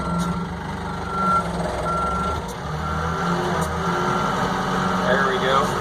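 Boom truck backing up at an Amish sawmill, a repeated loud electronic reversing beep sounding over a rumbling diesel engine.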